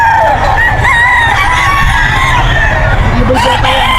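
A young rooster, a stag, crows loudly and close at a pet market, a long wavering call that fills most of the moment, with clucking fowl and market bustle underneath.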